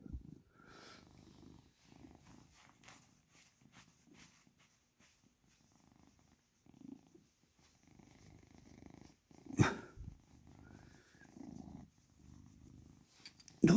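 A cat purrs softly and steadily while being petted, close to the microphone but quiet, with a few brief louder bumps and a short snort.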